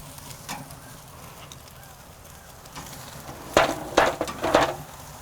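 Prime New York strip steaks flipped onto the hot grate of a Kamado Joe Big Joe grill for a reverse sear, giving a low steady sizzle and then several sharp clanks of tongs and metal near the end.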